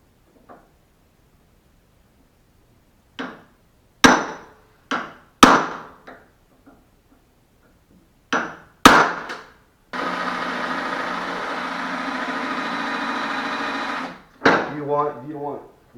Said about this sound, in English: get a punch tool, and you want to drill this out in the middle, so make sure you tap it right in the middle of this thing